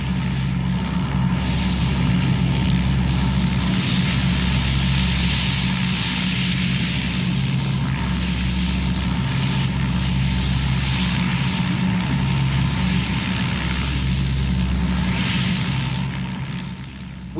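Propeller engines of a rescue plane evacuating foreign nationals during the 1971 war drone steadily and loudly throughout, a constant low throbbing hum with airy noise on top, no voices.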